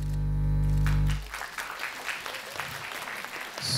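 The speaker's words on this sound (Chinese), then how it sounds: "这是为学生会来鼓掌的" An audience at an academic art lecture breaks into applause after a low electronic hum cuts off, a dense, close burst of clapping that continues steadily to the end with no talking.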